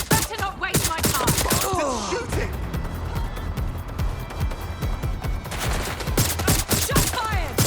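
Rapid bursts of gunfire in the video game Watch Dogs: Legion, loud and close, with dense volleys at the start and end and shouted voices and gasps in between.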